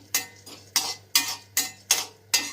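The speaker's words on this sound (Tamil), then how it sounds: "உளுந்து பாருங்கள் இப்படி வறுத்து எடுத்துக்கோங்க" Urad dal and asafoetida roast in a pan for homemade idli podi, and a spoon scrapes through them in seven crisp, evenly spaced strokes, close and distinct, with no talk.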